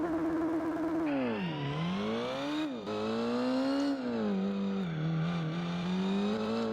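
Chrysler Viper Oreca racecar in Gran Turismo 4 launching hard, a loud, close engine revving and climbing through gears with pitch dips at each shift, steady and dense with no talk.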